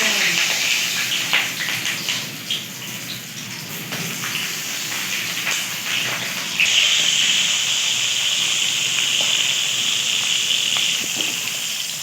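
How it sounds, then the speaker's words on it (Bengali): Mixed summer vegetables, including long beans, okra, drumsticks, green chillies and pointed gourd, sizzle in a pan in a village kitchen, a steady loud frying hiss that grows brighter partway through, with scattered scraping clicks from stirring. "এবার সবগুলো সবজিগুলো দিয়ে ভালো করে নেড়ে নেব।"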